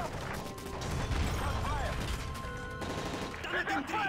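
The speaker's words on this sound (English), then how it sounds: "That's gunfire!" Bursts of automatic gunfire and clattering mechanical impacts ring out during a plane hijacking in the video game Call of Duty: Modern Warfare 3, close and chaotic, with voices shouting over the shooting.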